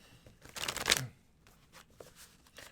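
A deck of Lenormand fortune-telling cards is shuffled during a tarot reading, with one loud riffling burst followed by a few softer card slaps and taps close by.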